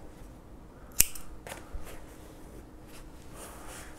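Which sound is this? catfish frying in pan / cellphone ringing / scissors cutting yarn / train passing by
scissors cutting yarn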